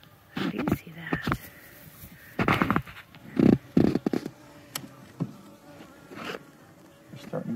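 Honey bees buzz close by at their hive in uneven swells and passes, with people talking quietly over the droning hum.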